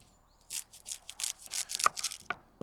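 Vegetables being cut with a Brisa Nessmuk 125 knife: a close series of crisp slicing and chopping strokes in irregular rhythm, with a few sharp taps on the board at the end.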